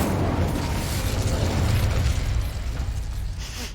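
In Hogwarts Legacy, the Incendio fire spell produces a dense, loud roaring blast of fire with crackling bursts throughout. It holds steady and then eases slightly near the end, with no voices over it.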